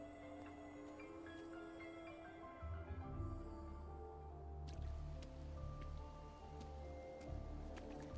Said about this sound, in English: When there's lightning, it's gonna rain.